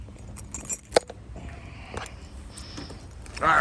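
Keys to a 1967 Ford Mustang jangle in a few sharp metallic bursts early on, followed by quieter handling clinks and rustling up close, with no voices.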